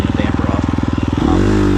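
Dirt bike engine in a hare scramble race, pulsing steadily near and loud, then revving up higher and smoother toward the end, with no talk over it.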